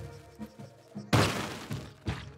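A bomb blasts in Spelunky 2 as a sudden loud broadband burst that decays, followed by a couple of smaller thuds and debris hits, over quieter game background sound.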